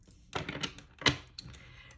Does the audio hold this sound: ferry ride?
no